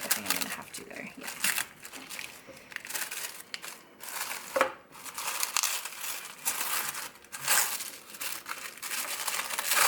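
Paper and plastic of a mailed Valentine's package crinkle and tear in repeated close, loud bursts of ripping and rustling, with a person talking intermittently over the handling.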